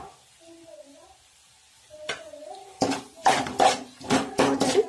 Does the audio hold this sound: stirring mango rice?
yes